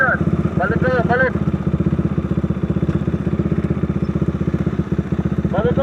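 Motorcycles of 400cc and up running on an expressway near Clark, a steady close engine drone with rapid pulsing throughout, and a voice calling out over it.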